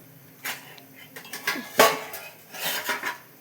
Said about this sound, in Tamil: நான் பிளேட் போட்டு மூடிடுறேன்.